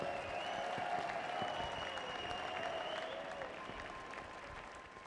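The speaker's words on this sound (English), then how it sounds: "Let's have a round of applause for our top three finishers" A crowd at the Hankook 24H Dubai 2017 race podium applauds the top three finishers, a dense, even wash of clapping from many hands that holds steady, then fades slightly toward the end, somewhat distant.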